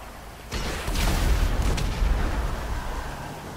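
In GTA 5, an RPG rocket strikes a Mule Custom vehicle, setting off a sudden loud explosion that rumbles and crackles for a few seconds before slowly fading.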